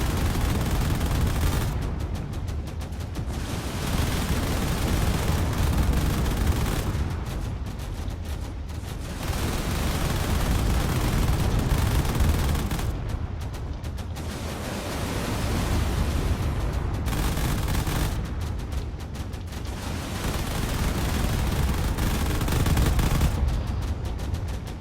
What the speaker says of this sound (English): Long-range artillery from the battleship over there is doing whatever it can.